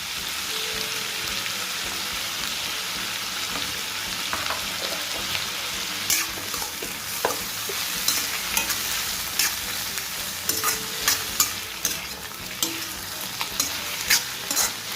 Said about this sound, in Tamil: தக்காளி நல்லா மசிஞ்சு வரட்டும். அது வரைக்கும் நல்லா வேக வச்சிடலாம்